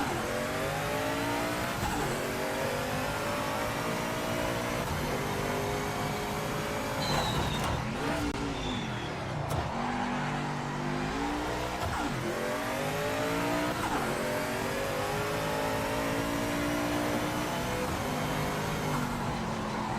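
Group C race car engine in the Project Motor Racing video game revs hard and continuously, rising and falling through gear changes, with brief tire squeal and downshift dips under a constant loud roar.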